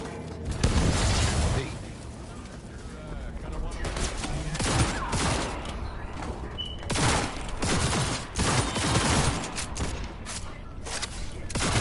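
Gunfire in the video game Cyberpunk 2077, dense sustained bursts of shots and booms filling the whole stretch, loud and continuous with a voice heard briefly through the din.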